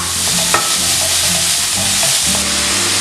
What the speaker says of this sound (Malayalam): ഇതിലേക്ക് നമ്മൾ അരിഞ്ഞു വെച്ചിരിക്കുന്ന സവാളയും പച്ചമുളകും, നേരിയ ബ്രൗൺ നിറം ആവുന്നത് വരെ സോട്ട് ചെയ്യാം